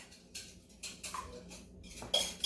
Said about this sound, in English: I have 2 extra large eggs that I'm just gonna whisk and add